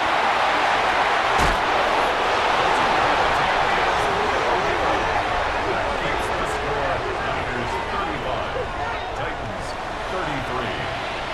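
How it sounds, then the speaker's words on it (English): A virtual stadium crowd in an NFL football video game roars as a steady broad hubbub, a sharp thud near the start, with a commentator's voice talking over it. "Listen to this crowd."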